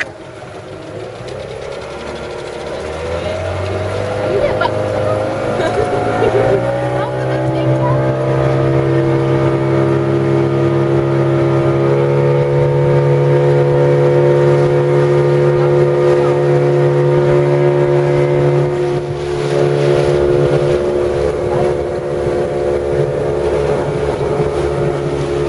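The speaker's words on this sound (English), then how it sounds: "Okay, the boat's just arrived and time to head across." A motorboat ferry crossing a river at Taman Negara: a steady, loud engine drone that rises in pitch and settles into a sustained hum, with water and hull noise, no talk.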